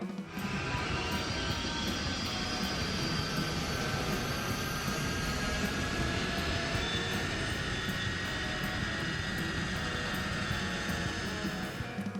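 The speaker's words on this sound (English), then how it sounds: "When an airplane descends to land, it experiences a change in air pressure" A fixed-wing airplane descends to land, its engines a steady, loud broadband roar with a faint high whine, continuous and unchanging throughout with no voices.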